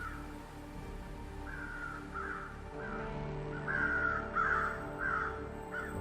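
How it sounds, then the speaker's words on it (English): Crows caw repeatedly in The Long Dark, a series of harsh calls near a farm that build in loudness and come close together over steady low wind ambience. "Crows are here already"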